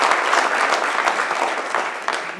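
A large crowd at a presidential executive order signing event applauds steadily, dense clapping filling the whole stretch at a loud, even level with no voices standing out.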